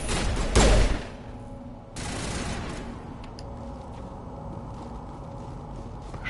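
A pistol fires in Mass Effect 1, a burst of sharp close shots near the start followed by a sustained rumble of combat noise and distant shooting, with no talk.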